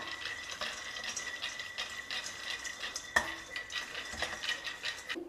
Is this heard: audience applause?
no